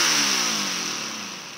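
A tiny inline-four crossplane two-stroke 8cc air-powered engine with tubular exhaust revs high and loud up close, its buzzing pitch sliding gradually downward as it winds off over about a second and a half.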